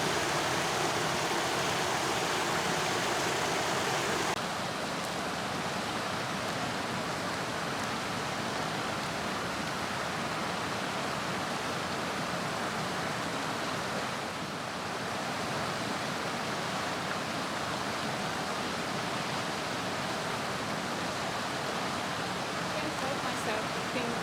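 Continuous rushing water, a broad steady hiss like a river flowing nearby, unchanging and fairly loud for the whole stretch.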